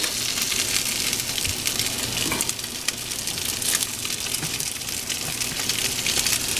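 Potatoes and onions fry in a pan for a frittata, a steady, fairly loud sizzle and hiss running throughout with occasional scraping stirs.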